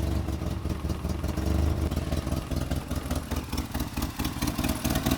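An MJ engine running after sitting unused all winter, a steady low rumbling idle with a little throttle applied, close and continuous with no talk.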